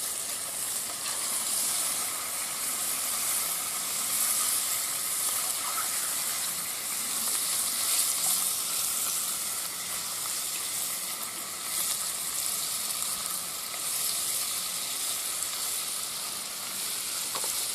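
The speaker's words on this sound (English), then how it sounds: "The bushcraft staple breakfast, bacon." Bacon fries in a pan over a campfire during a bushcraft breakfast, giving off a steady, loud sizzle and hiss that continues without a break. No one speaks over it.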